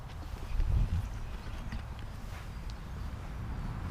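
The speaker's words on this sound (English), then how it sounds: "It's the horses." Horses' hooves clip-clop steadily on a hard surface, a continuous rhythmic clatter with a louder thud early on, heard outdoors close by.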